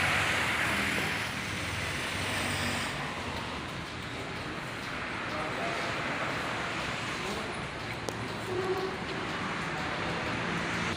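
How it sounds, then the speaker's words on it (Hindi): Walking into Shaheed Millat metro station in Islamabad, with a steady, loud wash of station and traffic-like rumble throughout and a brief clack near the end, no clear talk. "ये जी हम शहीद मिलत मेट्रो स्टेशन में दाखिल हो रहे हैं।"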